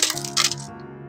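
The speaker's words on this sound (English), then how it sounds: "I'm going to take my smaller rocks and start to build them in around" Small hard rocks clink and clatter against each other in a brief burst of sharp clicks as they are placed, with a ringing tone lingering afterward.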